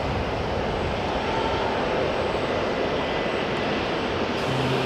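Passenger jet taxiing at Auckland Airport, a steady, even engine rumble and hiss holding at constant loudness throughout, with no voices.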